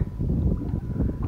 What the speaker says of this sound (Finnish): tämmönen pikku tuuli